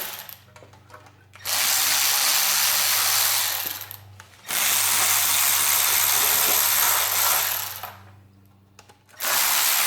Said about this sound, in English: But we can take off the valve covers here real quick.